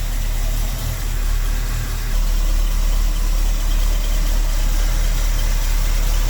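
Original 350 cubic-inch V8 in a 1971 Buick Skylark Custom Coupe with an Edelbrock 1406 four-barrel carburetor, idling as it warms up, a loud, close, steady rumble with a constant low throb.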